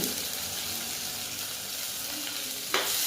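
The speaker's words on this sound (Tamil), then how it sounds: "எல்லாம் சேர்த்து நல்லா வதக்கிக்கலாம்" Curry leaves, green chili and ginger sizzle in hot oil with a steady, close frying hiss, then a brief stirring scrape near the end.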